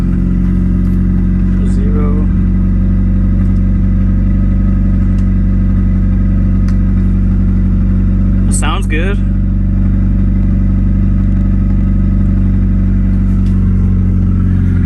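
A 1991 Nissan Hardbody mini truck fitted with a 240SX turbo kit idles steadily, a loud, close, even engine drone with a strong low hum running throughout while someone talks briefly.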